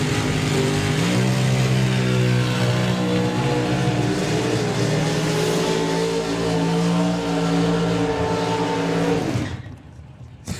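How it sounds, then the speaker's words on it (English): A Super Pro drag racing car does a long burnout, its engine roaring loud and steady for about nine seconds before cutting off abruptly into near silence. "He's doing 330-foot burnouts in Super Pro."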